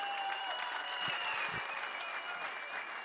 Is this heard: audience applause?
yes